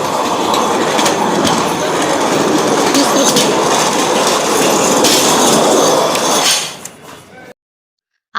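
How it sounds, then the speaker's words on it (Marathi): A loud train rumbles and rattles past close by at a station platform in Thane, then fades away and goes quiet. "इथं आत्ताच ट्रेन गेली"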